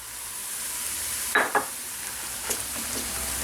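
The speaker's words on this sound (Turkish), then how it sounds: "Güzelce bunları da yağla kavurun." Tomato and pepper paste sauté in oil for kısır, giving a soft steady sizzle with a few brief stirring scrapes, close and quiet with no talk.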